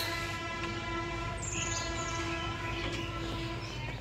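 A Sundarban Express toy train at a picnic park hums steadily with a sustained tonal drone and a faint whistle-like tone, continuous throughout with birds chirping lightly in the background.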